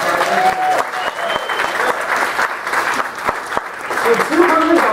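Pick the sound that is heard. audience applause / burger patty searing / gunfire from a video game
audience applause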